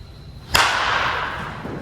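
Sharp crack of a wooden baseball bat, an alternative-wood model, striking a ball once, close and loud, followed by a lingering bright ring and outdoor ambience.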